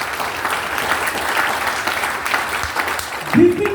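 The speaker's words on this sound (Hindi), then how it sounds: "एक बार जबरदस्त ताली" An audience at a seminar in Gurgaon breaks into applause, a dense, steady clapping wash lasting a few seconds, with a brief voice rising near the end.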